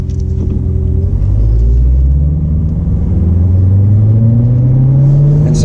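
A car engine hums loudly and steadily at the start of a drive, its low rumble rising in pitch as it accelerates, with the transmission set to full manual mode and shifts made by paddle shifters.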